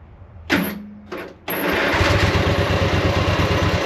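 An old tractor engine sputters on after two short cranking bursts, then settles into a steady, loud chugging idle close by.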